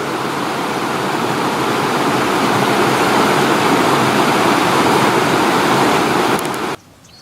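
Rainwater runoff rushes loudly and steadily in the rain-soaked Tijuana River Valley, heading toward the main river channel, a dense close roar of flowing water that cuts off abruptly near the end.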